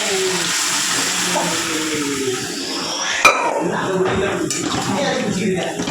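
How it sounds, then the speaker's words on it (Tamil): Curry gravy with lentils and meat poured into a cooking pot: a steady, continuous liquid splashing and gushing that runs the whole time, with one sharp knock midway. "குழம்பு ஊற்றிட்டேன்."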